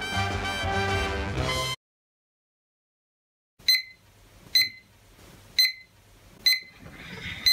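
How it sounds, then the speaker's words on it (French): A bedside alarm clock rings in short, sharp repeating bursts, five loud evenly spaced beeps about a second apart, following a few seconds of music and then silence. "Ça c'est actuellement toujours mon réveil"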